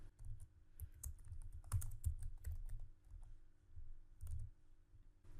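Fast, light clicks and taps from typing on a computer keyboard come in short bursts with brief pauses, quiet and close in a still room.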